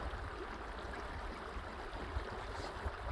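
Creek water flows past a small sandbar on a trail, a steady close rushing and gurgling wash at moderate volume, continuous and alone without speech.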